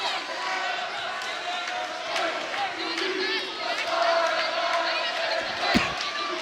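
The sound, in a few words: crowd cheering at high school volleyball match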